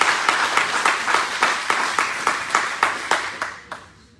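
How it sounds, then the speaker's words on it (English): An audience at a South African political speech responding to the 2023 State of the Nation Address claps in a steady, unison rhythm, loud and close, with the clapping thinning and fading away at the end. "you can applaud if you agree with me"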